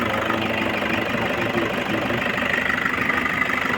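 A Toyota Grandia van with a low-power fault idles in a steady, continuous drone that stays close and fairly loud throughout, with a faint ticking knock mixed into the engine hum.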